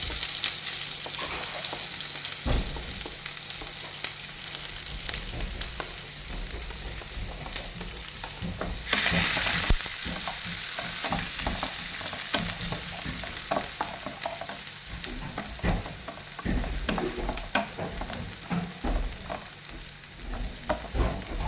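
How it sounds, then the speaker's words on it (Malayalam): Garlic, green chilies and onions sautéing in a pan, a continuous close sizzle with frequent stirring scrapes and knocks and a brief louder hiss in the middle. "പച്ചമുളക്, സവാള, ഇത് മൂന്നും നന്നായിട്ടൊന്ന് വഴറ്റിയെടുക്കാം."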